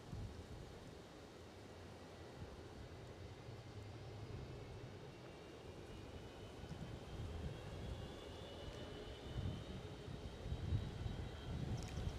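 A Gulfstream G500 business jet on final approach to Edinburgh Airport gives a steady, distant jet roar with a faint rising whine, heard through gusty wind and gradually swelling.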